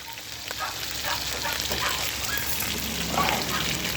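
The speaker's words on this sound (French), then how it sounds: "On va mettre les oignons maintenant." Onions cook in a pot for pot-au-feu, giving a soft, continuous sizzle and watery bubbling with some stirring. Muffled voices are faintly present in the background.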